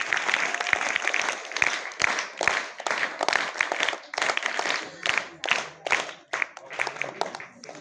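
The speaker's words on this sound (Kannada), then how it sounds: "ಕೀರ್ತಿ ಸ್ವಲ್ಪ ಚಪ್ಪಾಳೆ ಬಿಡ್ರಪ್ಪ." Students at Morarji Desai residential school, Lingeri Station, clap loudly for a classmate during a Bharat Seva Dal session, with irregular bursts of close, crisp handclaps that rise and fall and some talking mixed in.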